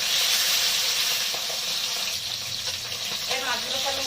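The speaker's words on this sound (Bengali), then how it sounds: "এই মাছগুলো ভাজা হয়ে গেছে," Small poa bhola fish frying in a pan, giving a steady, close, dense sizzle that runs throughout without a break.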